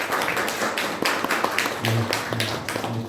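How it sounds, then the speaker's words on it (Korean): A church congregation claps in welcome during a Sunday communion worship service. Scattered, uneven claps are heard, with a faint voice underneath toward the end. "우리 박수로 한번 환영하겠습니다."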